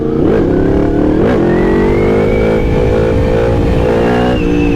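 A loud, close Yamaha MT-10 SP 2023 motorcycle engine revs up sharply twice, then climbs in a sustained rising whine as it accelerates.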